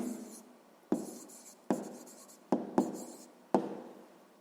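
A pen scratches on paper nearby, writing an answer to a school math problem, with several sharp taps and short strokes, quiet and alone.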